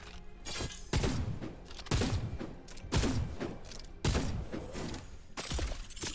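Shotgun firing in the action RPG Wayfinder, about five loud booming blasts spaced roughly a second apart, each followed by a decaying rattle, with no talk.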